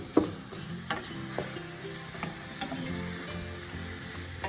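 Sliced mushrooms sizzle and fry steadily in a hot pan as their fluid releases, with a continuous crackling hiss and a few light stirring clinks and scrapes, close and alone.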